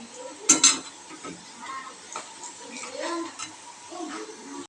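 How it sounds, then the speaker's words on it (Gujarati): A spoon stirs boiled potatoes with turmeric in a pan while cooking sabudana khichdi, giving soft scraping clinks, with a sharper metallic knock near the start and light rustling stirs after it, faint voice in the background. "એમાં નાખીશું હળદર નાખી અને મિક્સ કરી દઈએ"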